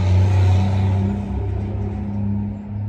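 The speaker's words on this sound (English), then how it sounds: "And I'm sure that was doing a bit more than that, and that was a tractor." A tractor speeds past on a narrow back lane with a low, droning engine rumble that stays steady and moderately loud, then eases slightly, with no voices.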